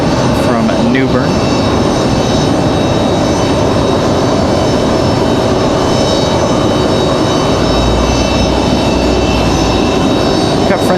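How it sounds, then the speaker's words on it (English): A FedEx ATR turboprop at Raleigh-Durham airport gives a steady, loud engine drone mixed with broadband wind rumble that lasts throughout, and a low hum swells near the end. "So there's our FedEx ATR from New Bern."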